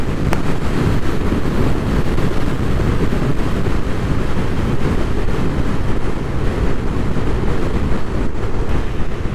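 Vespa GTS 300 HPE scooter fitted with a J.Costa variator accelerating on a country road, a steady dense engine drone heavily mixed with wind rush, close and unbroken.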